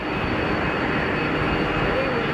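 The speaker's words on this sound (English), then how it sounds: "The 350 is on the push." A Qatar Airways Airbus A350 at Geneva Airport during pushback, giving a constant, dense engine hum at close range with no change over the brief stretch.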